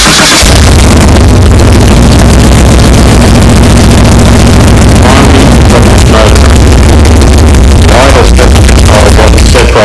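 A Jaguar XJS 4.0 litre engine on a Haltech ECU running rough, a loud, close, uneven rumble that holds steady throughout with a faint voice underneath.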